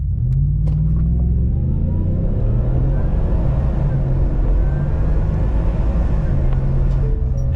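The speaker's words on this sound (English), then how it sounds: "I'll do a 4 high auto launch with a brake rev and we'll see what it can do." A Roush supercharged 5.0 V8 in a 2023 Ford F-150 pickup launches hard from a brake rev in four-high, its loud, close engine roaring steadily as it accelerates through the run.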